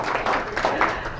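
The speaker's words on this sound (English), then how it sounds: "give her a round of applause" A brief burst of clapping from a small group, steady and moderately loud throughout.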